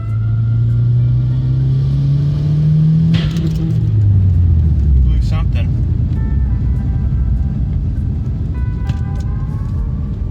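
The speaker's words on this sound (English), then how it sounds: "we had to do a third gear pull to redline" An Audi TT pulls hard in third gear toward redline, the engine note rising steadily and loudly, then a sudden drop as revs fall away into a rough rumble with road and wind noise.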